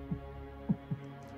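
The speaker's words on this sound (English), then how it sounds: "My heart rate just simply gets so stupid, and all of a sudden I can hear it beating in my ears." A heartbeat pounding in the ears during anxiety, heard as a few low, soft thuds at uneven spacing over a steady dull hum, with no voices.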